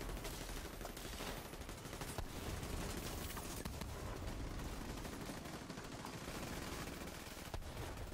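Rapid, sustained machine-gun and rifle fire from a shooter video game, dense bursts running continuously at steady loudness with no pauses.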